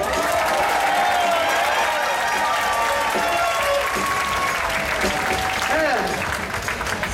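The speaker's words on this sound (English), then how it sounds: "How about a nice round of applause for my dear friend," A jazz concert audience applauds a performer. The clapping is loud and sustained, with a faint tone and background voices running under the dense patter.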